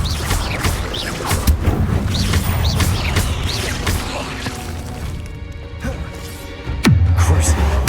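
Confringo blasting spells strike in a cave in Hogwarts Legacy, giving repeated loud crashes, cracks and heavy thuds amid busy combat noise, with a deep boom near the end and voice-like sounds mixed in.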